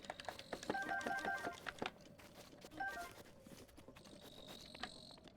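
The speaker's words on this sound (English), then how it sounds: "I hear some frogs, but I don't think there actually is any frogs. I think it's just sounds." Frog ambience in The Legend of Zelda: Breath of the Wild forms faint clusters of quick, chirping croaks in short bursts over a quiet outdoor background.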